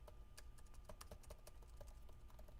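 Keys clatter in quick, uneven taps on a laptop keyboard under repair, close but quiet, with a soft steady hum beneath.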